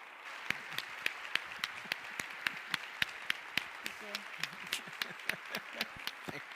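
An audience at a TEDx talk applauds with sparse, distinct claps spread at an uneven rhythm over a quiet room, fairly faint, with a voice speaking briefly among them.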